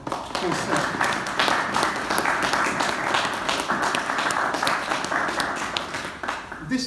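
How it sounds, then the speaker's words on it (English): An audience at a community gathering claps in a steady, dense round of applause that carries on at an even level from start to finish. "If you could have a round of applause"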